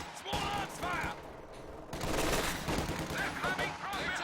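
Machine gun fire in Company of Heroes 2, sustained rattling bursts from an MG aimed at riflemen in a house, set among dense battlefield noise with talk over parts of it.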